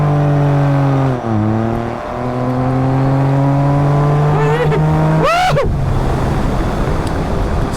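Can-Am Ryker three-wheeler pulling away from a green light, its engine climbing steadily through the gears with a shift dip, then a sharp rising whine near the end before settling into loud, close road rumble.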